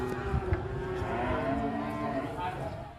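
Calves mooing at a crowded livestock market in Tasikmalaya, several loud bawls rising over a steady din of cattle and background bustle, with no clear talk.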